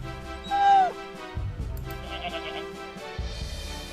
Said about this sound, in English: Why is that a sheep or goat noise?